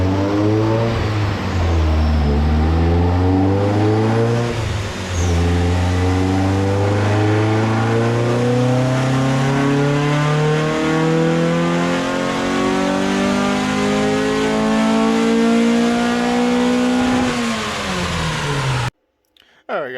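Nitrous-equipped Dodge Neon engine revving hard on a dyno in one long, loud all-motor pull that climbs steadily to 7600 rpm, the pitch rising throughout before cutting off abruptly near the end.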